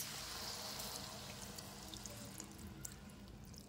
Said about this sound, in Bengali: আমি গরম জল দেব না, আমি ঠান্ডা জলই দেব